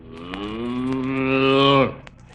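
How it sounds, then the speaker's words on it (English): A single long, drawn-out cow moo, loud and close, rising slightly in pitch before cutting off, with faint rustling around it. "That's a good cow."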